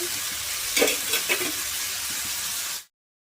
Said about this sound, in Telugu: పచ్చిమిర్చి ఇలా కట్ చేసి ఆయిల్లో వేస్తున్నాను